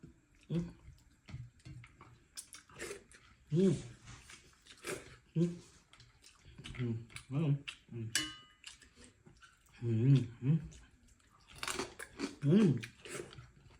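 Crunchy chewing and biting of fried lechon kawali and salmon head during a mukbang, close wet crunches in bursts between pauses, with occasional soft talk.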